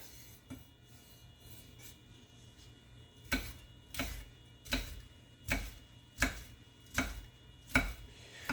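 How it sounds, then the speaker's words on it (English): A knife chopping frozen food for taco salsa, faint taps at first, then a steady run of sharp, evenly spaced thuds on a cutting board, close and alone. "So I'm just going to chop this up."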